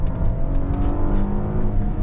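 A Maserati Quattroporte S Q4 Gran Sport with all-wheel drive accelerates hard, its engine a loud, continuous close-up drone under steady load.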